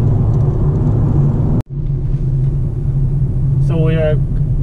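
From inside a rented car on a city road in Japan, a steady low road and engine rumble carries on with a sharp click partway through and a brief high chirp near the end.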